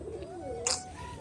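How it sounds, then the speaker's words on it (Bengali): Rajshahi pigeons coo softly in a loft, a low wavering call rising and falling under a brief bright rustle or flutter, fairly faint and close. "সমস্ত পায়রা ছাড়া আছে"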